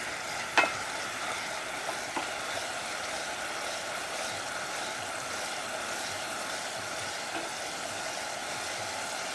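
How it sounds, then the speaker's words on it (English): Fresh-squeezed coconut milk cooks in a pot while a spoon stirs it, giving a steady soft sizzling hiss with a couple of brief scraping clicks near the start. "You want to keep stirring so it won't get burned underneath, so it won't burn the pot"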